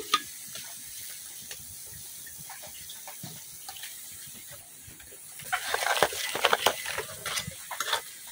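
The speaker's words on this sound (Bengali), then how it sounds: "এদিক দিয়ে আমার এই 3টা পিঠা ভাজা হয়ে গেছে" Rice-flour kamranga pitha frying in oil, a faint steady sizzle that swells into louder crackling and bubbling toward the end, with a few soft clinks.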